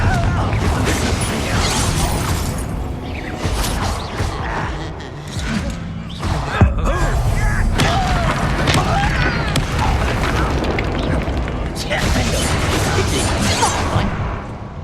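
The Confringo fire spell in Hogwarts Legacy going off amid combat, dense booming blasts and crashing debris in repeated bursts, with a sharp impact near the middle and character voices over the action.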